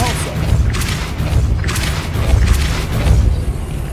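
A Depulso force spell cast in Hogwarts Legacy lands as a deep, booming thud with rumbling low-end impacts repeating over several seconds, loud and close, with no talk over it.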